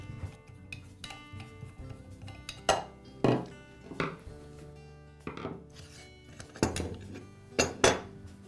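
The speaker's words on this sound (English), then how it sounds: "I'll begin by removing the side handle and the guard." Metal parts clink and rattle as the side handle and guard come off a Makita angle grinder, a scatter of close, sharp knocks and ringing taps spaced irregularly, with no voice.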